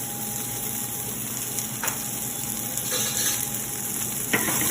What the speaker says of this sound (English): you'll kind of just give that a stir so it's nice and mixed up